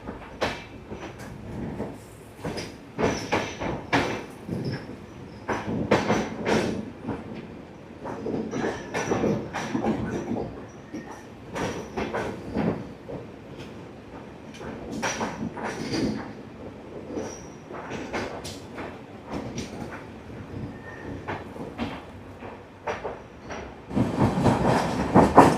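Kolkata Sairang Express passenger train pulling out of a station, recorded from on board with a continuous rumble, repeated clickety-clack of wheels over rail joints, and occasional squeals, steady throughout and growing louder near the end.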